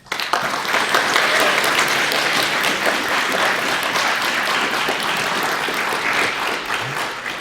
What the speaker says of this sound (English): if we could get our two VIPs to stand up and we give them a big round of applause